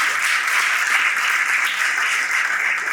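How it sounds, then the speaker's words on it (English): An audience claps steadily, a dense, even wash of applause that holds for a few seconds. "Clap very well."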